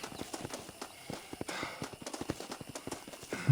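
Horse hooves clip-clopping in the video game Red Dead Redemption, a quick irregular run of close, distinct hoof strikes as the horse follows behind.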